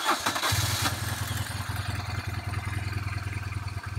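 A BMW R1200GS Adventure motorcycle engine cranks and catches, then settles into a loud, close, steady lumpy idle with a rapid even pulse.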